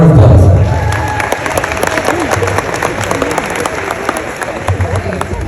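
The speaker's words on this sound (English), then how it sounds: "Give her a round of applause." Wedding guests applaud as the bride's older sister steps up to give a speech, a loud opening burst of clapping that thins into scattered claps and murmuring from the room.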